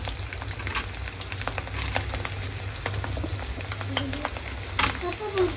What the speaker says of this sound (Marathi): मस्त कांदा परतून घेतोय।